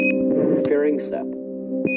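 In the space game Space Agency, loud electronic beeps ring out, a sharp tone near the start and again near the end, over a low sustained hum and murmured sound effects.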